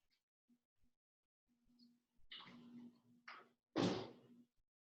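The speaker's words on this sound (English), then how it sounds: "close my washer doors" Washing machine doors being shut, a few soft knocks and clunks building to a louder final thud, close by in an otherwise quiet room with a faint steady hum.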